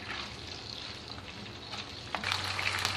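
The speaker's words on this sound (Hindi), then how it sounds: "इसके साथ इसमें चिकन शामिल कर दें। इसको 4 से 5 मिनट आपने अच्छी तरह से फ्राई करना है।" Chicken frying in a pan for Lahori murgh cholay gives a steady, soft sizzle throughout, with a few sharper crackles and pops near the end and no talking.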